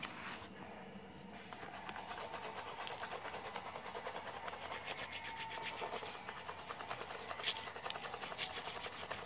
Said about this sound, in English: Sharpen my spear.